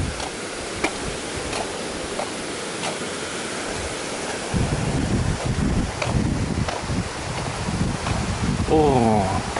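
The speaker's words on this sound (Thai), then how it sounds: "มีเสียงน้ำด้วยอ๋อตรงนี้คงทำหน้าที่เป็นฝายน้ำล้นด้วยนะครับ" Water pouring steadily over a small weir beneath a bridge at Ban I-Tong near the Pilok mine, a constant broad rush heard outdoors with a little wind noise.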